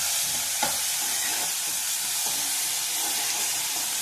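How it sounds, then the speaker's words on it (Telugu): Tempering spices and grated onion frying in hot oil for a radish and moong dal curry, a constant loud hissing sizzle with occasional soft stirring knocks, close by, no speech. "ఆయిల్ హీట్ అయ్యాక కొన్ని పోపు దినుసులు, ఆనియన్ తురిమేసుకోవాలండి"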